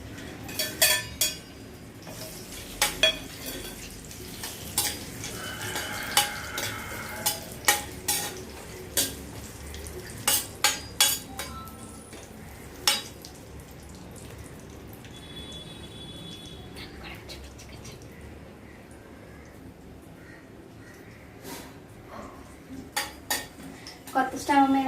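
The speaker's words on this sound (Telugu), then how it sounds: "ఫస్ట్ ఈ డ్రై ఫ్రూట్స్ ఫ్రై చేసుకుందాం మనం." Dry fruits fry and get stirred in a pan on a new gas stove, with repeated sharp clinks and scrapes of a utensil against the pan over a low background hiss, close and fairly quiet throughout.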